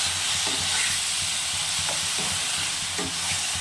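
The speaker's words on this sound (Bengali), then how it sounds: "কষিয়ে কষিয়ে শুকিয়ে শুকিয়ে একটু রান্না করতে হবে" Taro greens and chickpeas stir-fried in a pan give a steady, close sizzle and hiss, with a few soft scrapes of a spatula turning the greens and no talking.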